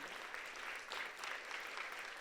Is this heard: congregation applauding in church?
yes